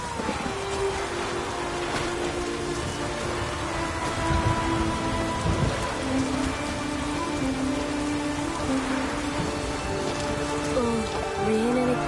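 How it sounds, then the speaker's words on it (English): Steady rain in the video game The Witcher 3: Wild Hunt patters and hisses continuously, with faint low rumbles underneath and some tonal background sound layered in. "Oh, raining again."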